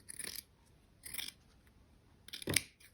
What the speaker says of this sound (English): and then just cut some strips